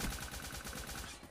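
Rapid automatic gunfire from a DLC weapon in Black Ops 3 multiplayer, a quick rhythmic burst of shots heard at low volume.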